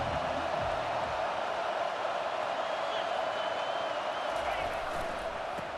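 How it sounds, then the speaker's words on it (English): Stadium crowd roars steadily throughout a college football game between SMU and MSU, a dense, continuous wash of noise from a large audience with no breaks. "The roar of the crowd trying to fuel this defense to keep them pinned in their own end."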